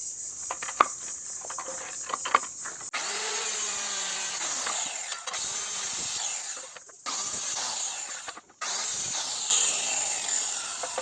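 Power saw cutting through a wooden board, several loud sustained cutting passes separated by short pauses, close by, with lighter tapping and handling sounds before the first cut.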